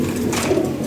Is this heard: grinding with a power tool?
no